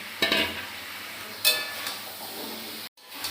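Meat being sautéed and stirred in a pan, with a soft steady sizzle under a few sharp scrapes and clinks of the spoon against the pan, close and moderately quiet.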